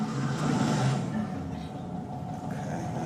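Stalled car being restarted, a low rumbling engine that surges briefly at first and then settles into a steady mid-level drone, with no one talking.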